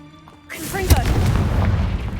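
Confringo and Bombarda spell explosions in the Hogwarts Legacy video game: a sudden deep boom with a crackling burst, followed by a sustained rumbling roar, loud and close.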